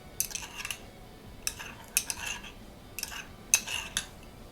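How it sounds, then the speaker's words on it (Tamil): Spoon stirring milk into curd in a bowl, four separate bursts of bright clinking and scraping against the bowl, close and fairly quiet, no talking. "இப்போது கொஞ்சம் பால் எடுத்து இந்த தயிரில் மிக்ஸ் பண்ணிக்கலாம்."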